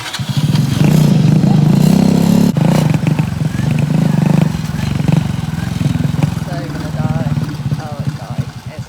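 A motorcycle run out of petrol sputters and gurgles loudly up close, its engine faltering and dying, with a voice talking over the uneven chugging.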